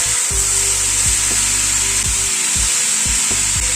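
Yardlong beans fry loudly in a pan with spices and chicken, a dense steady sizzle broken by repeated scraping strokes of a spatula as everything is tossed together.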